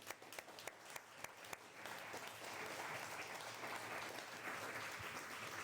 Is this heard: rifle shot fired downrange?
no